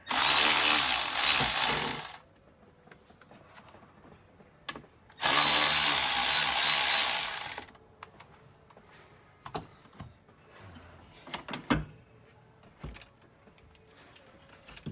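Power tool loosening intercooler hose clamps on a 1988-89 supercharged Toyota MR2, two loud close bursts of whirring driver each lasting about two seconds, followed by quieter scattered clicks and metal handling.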